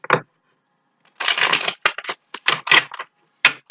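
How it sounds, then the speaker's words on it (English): A deck of tarot cards shuffled by hand nearby, a brief riffle followed by a series of loud, choppy bursts of cards sliding and slapping together, separated by short silences. "I'm going to shuffle once more"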